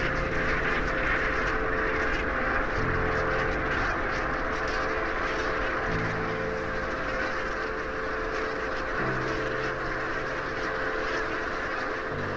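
A large flock of Pacific brant geese at a coastal lagoon keeps up a dense, continuous chorus of overlapping honks and calls from many birds, near and far, with no talking.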